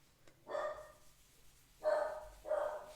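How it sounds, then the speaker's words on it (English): A small dog barks indoors, three short sharp barks at close range, one then a pause and two more in quick succession, over a quiet room. "there's my little dog Levi."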